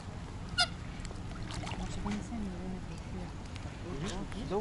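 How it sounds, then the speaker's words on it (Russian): Black ducks with white bills and white heads honk and quack on an open lake near Manavgat, Turkey, several calls scattered over a soft background murmur, with a brief sharp sound early on. "Вот такие вот здесь интересные утки с белыми клювами"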